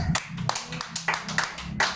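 Congregation clapping at a church service, a run of sharp hand claps in loose rhythm over about two seconds, with faint voices mixed in.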